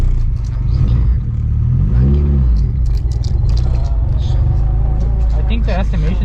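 A fully built 10th-generation Honda Civic Si race car drives with a loud, steady engine drone and a brief rev rise partway through, while people talk inside the cabin.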